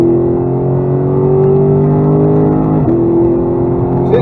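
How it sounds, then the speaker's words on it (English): Lexus GSF with a 5-litre V8 running on a track, a steady in-cabin engine drone that climbs in pitch under acceleration, dips briefly at a gear change, then pulls upward again; loud and continuous. "It does, yes, a 5 litre V8."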